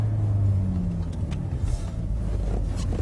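A Mercedes-Benz high-performance car drives on the Euro Speedway circuit, its steady engine rumble and road roar loud and close throughout, with no talk over it.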